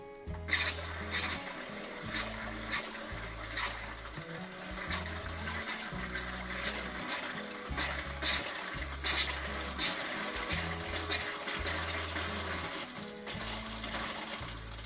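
A steady stream of RV antifreeze, white with mixed-in air, runs from a travel trailer's bathroom hot water faucet, making a continuous rushing hiss over a low, stuttering rumble that lasts throughout, with no talk.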